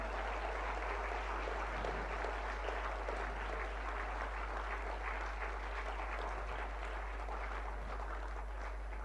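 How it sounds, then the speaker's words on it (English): An audience at a school career guidance event applauds to welcome the chief guest, a sustained, uniform roar of clapping from many people over a low steady hum. "May I request everyone to give a big round of applause as we warmly welcome our honored"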